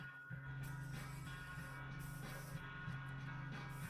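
An airbrush sprays purple paint in short bursts, a soft close hiss over the buzzing hum of a compressor that pulses on and off.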